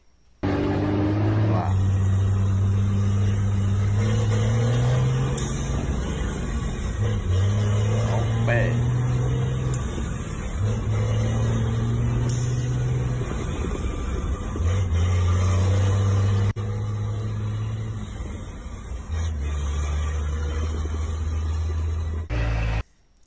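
A car engine revs through a series of upshifts, each pitch climbing and then dropping at the shift, repeated about seven times in a loud, close run, with voices faintly present.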